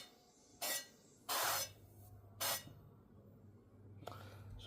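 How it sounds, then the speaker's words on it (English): Three short hissing bursts of cooking oil spray, close by and quiet, with a fainter fourth puff at the end over a low background hum. "Use any kind of spray oil, so it's just a little dash."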